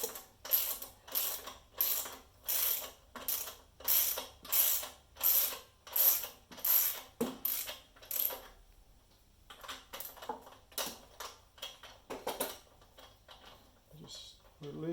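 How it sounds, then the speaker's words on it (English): A ratchet loosens a tight 10 mm bolt on the governor plate of a Honda HRU196 mower, giving a run of rhythmic clicking bursts, a pause, then a few slower, more scattered clicks, close and fairly quiet. "We're loosening the governing plate there, and there's a 10 mil bolt."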